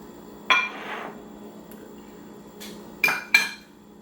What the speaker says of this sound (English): We're just going to fold those in to our dough.